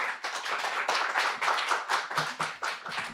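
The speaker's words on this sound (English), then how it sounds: "Round of applause for David Starkey" An audience gives a round of applause for poet David Starkey at a poetry event: brisk, crisp clapping from a modest crowd, steady and fairly close, with no voices over it.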